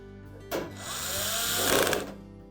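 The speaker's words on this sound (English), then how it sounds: "put in the rest of the retaining screws" Power drill whirring steadily for about a second and a half, driving retaining screws into the main top of a Frigidaire range, close and fairly loud, with a brief start and stop.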